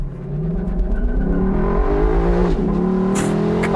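A 2022 Lexus LC 500 Convertible's V8 roars and climbs steadily in pitch as it launches and accelerates hard, loud and close, with a brief dip mid-run.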